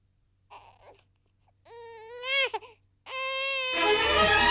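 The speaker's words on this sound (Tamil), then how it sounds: "என்னது குழந்தை அழுவுற சத்தம் கேக்குது?" An infant cries in a short indoor scene, with a few soft whimpers first and then rising wailing cries that grow louder and end in a long sustained sob under other noise.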